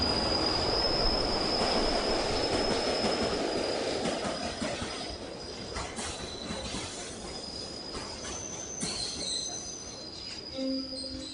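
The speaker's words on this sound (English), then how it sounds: "Just as the train is about to burst out of the tunnel" A train bursts out of a tunnel with a loud, broad rushing roar that slowly eases, and high metallic wheel squeals ring out near the end.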